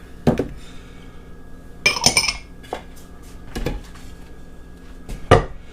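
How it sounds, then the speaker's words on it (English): A jar of pizza sauce being added to a pot for pizza pasta comes through as a handful of sharp glass and metal clinks and knocks, spaced apart with quiet gaps between them. "next we're going to add 1 jar of pizza sauce"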